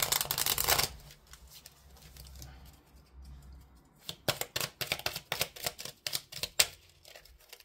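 Oracle cards being shuffled in quick, crisp riffles, a dense burst at the start and then a run of sharp, irregular flicks and snaps close to the listener, with no talking.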